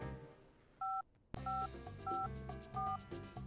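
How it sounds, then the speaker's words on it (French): DTMF telephone tones as a number is dialed, with several distinct beeps spaced irregularly over a few seconds, fairly quiet with low background sound. "Je ferais mieux d'essayer un autre numéro."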